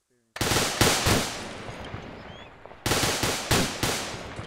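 Infantry section firing rifles in suppressive fire, with loud, sharp gunshots coming in irregular bursts and long ringing tails, then a gap and a second run of close, evenly spaced shots.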